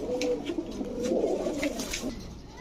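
Big-sized high flyer pigeons coo softly in a loft, a continuous low murmuring of several birds, faint and close with no speech over it.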